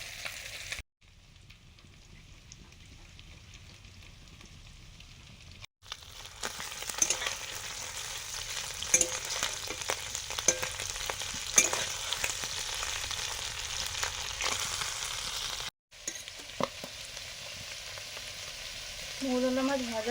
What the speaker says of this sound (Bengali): মৌরলা মাছ ভাজা হয়ে গেছে